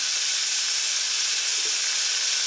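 Ground masala paste for a no-onion white kurma hits a hot pan, giving off a steady, loud, even hiss with no break and no voices.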